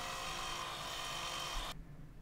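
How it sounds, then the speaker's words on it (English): A power drill whirs steadily while boring a small guide hole into a plastic computer case, a short continuous buzz that cuts off abruptly near the end. "drilled a small guiding hole into the centers"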